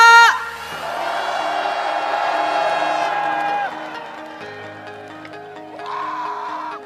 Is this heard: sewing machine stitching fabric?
no